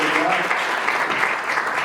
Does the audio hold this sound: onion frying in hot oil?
no